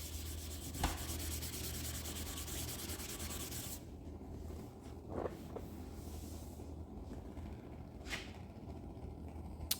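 Steady wet rubbing as car paint is wet-sanded, scrapes against the surface continuous and fairly quiet, with a few brief sharper swipes.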